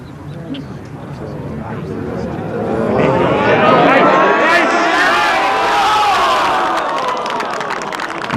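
A golf gallery at the 2005 Italian Open roars and applauds a birdie by the home favourite, the cheering swelling loudly to a peak mid-way and then easing slightly while still sustained.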